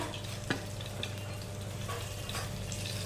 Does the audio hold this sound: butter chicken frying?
yes